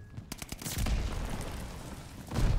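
Rapid bursts of automatic rifle fire from an STG 44 in the shooter game Call of Duty: Vanguard, several sharp cracks followed by a dense, rumbling volley and a final heavy burst, loud and close.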